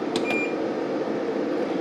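Inverter beeper on a Datou Boss DT4862S 6200W solar inverter giving two or three short electronic beeps over a steady fan-like hum, close and alone.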